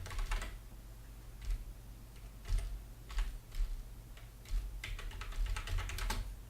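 Irregular bursts of keystrokes as an SQL query is typed on a computer keyboard, close and fairly quiet over a low steady hum, with no talking.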